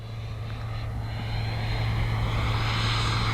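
A Freewing Typhoon 90mm EDF RC jet, rebuilt from two crashed airframes, roars past at full throttle as a steady, loud ducted-fan whine that swells slightly as it nears, with no talk over it.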